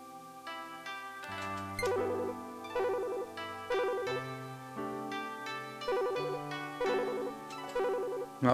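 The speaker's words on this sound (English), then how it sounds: "phone's ringing" Ringing telephone in the video game Sakura Taisen 2: a synthesized, melodic ring in repeated bursts roughly once a second over background game music, fairly loud, no talk.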